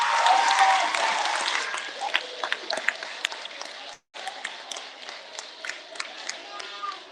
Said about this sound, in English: Give Isaiah a round of applause.